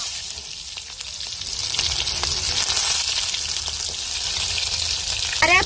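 Mustard seeds frying in hot oil for a chicken feet curry, a steady dense sizzle and crackle that swells slightly midway, close and fairly loud, with no voices.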